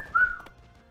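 A single short rising whistle in the video game Pokemon Shield, close and clear, lasting a fraction of a second and then fading.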